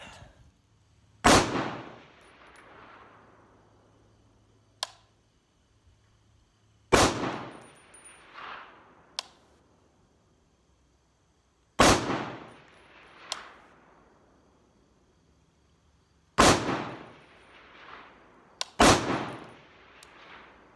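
Five sharp, loud rifle shots firing Malaysian surplus 7.62x51 ammunition, spaced several seconds apart, each a sudden crack followed by a decaying echo, with a few faint clicks between them.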